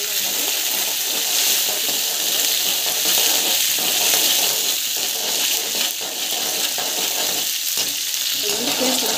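Mustard seeds and cumin frying in hot oil, a loud continuous close sizzle with crackling pops throughout.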